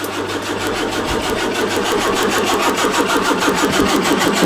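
A classic car engine cranks and catches with the choke on, a fast rhythmic chugging of firing cylinders that builds into a loud, steady run, close by.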